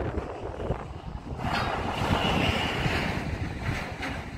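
Heavy sea surf pounding against a seawall on the north side of a coastal dike in West Ancol, North Jakarta, a steady roaring wash that swells louder midway, with wind buffeting the microphone and no voices.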